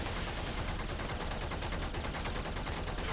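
Rapid automatic fire from an assault rifle in the video game Warframe, a dense, continuous burst of shots running steadily throughout at close range with no talk.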